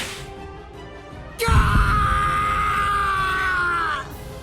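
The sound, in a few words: man screaming in pain, from the video game Bleach: Rebirth of Souls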